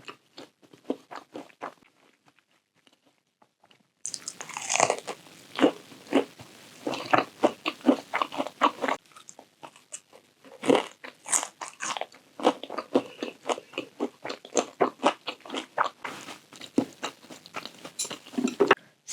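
Bulgogi kimbap being bitten and chewed up close, a steady run of wet crunching and mastication bursts, quiet at first and then loud and repeated, with no talking.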